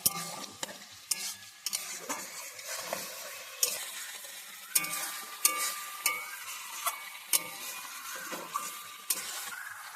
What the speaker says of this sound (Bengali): এইভাবে নেড়ে নেড়ে আমি শুকনো করে নেব একেবারে আচারটাকে